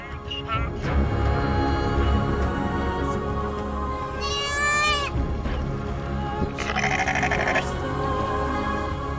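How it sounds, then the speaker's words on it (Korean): Goats and sheep bleat repeatedly at morning in a village of Borana herders, with loud, close, overlapping calls over a constant background, several distinct bleats standing out. "가축들의 울음소리로 깨어나는 마을의 아침."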